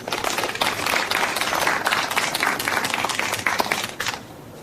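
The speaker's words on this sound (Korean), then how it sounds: "박수로 맞이해 주시기 바랍니다." A crowded hall at a literary award ceremony bursts into dense, sustained applause welcoming a publishing-house head to the stage, the many overlapping claps near and loud before tapering off at the end.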